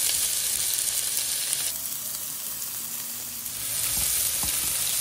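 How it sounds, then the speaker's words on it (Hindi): Cumin seeds and onion fry in ghee in a pan, a loud steady sizzle that dips briefly midway, as if stirred or as ingredients go in, then swells again. "जब आपका जीरा ब्राउन हो जाए तो इसमें आप प्याज डाल दें।"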